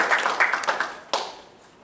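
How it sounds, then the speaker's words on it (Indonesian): A church congregation claps hands during a worship service, producing a lively cluster of close claps that peaks, then trails off and fades toward the end. "Tepuk tangan dulu buat Tuhan Yesus."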